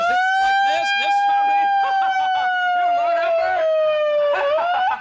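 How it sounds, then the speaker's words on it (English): A loud wailing siren with a steady, slowly falling tone and rich harmonics, close by, with a voice talking over it. "This siren, is that what you're talking about?"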